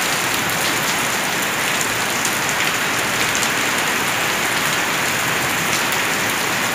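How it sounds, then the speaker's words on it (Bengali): Heavy rain pours down on a street as a dense, steady hiss of drops that stays loud throughout, with no other sounds standing out. "ঝমঝম করে জোরে বৃষ্টি শুরু হয়ে গেছে, রাস্তায়ও জল দাঁড়াতে শুরু করে দিয়েছে"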